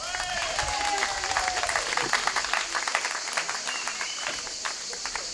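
An audience at a concert in Cucuron applauds a singer taking the stage, with dense, continuous clapping that gradually thins and fades toward the end over a background of crowd murmur.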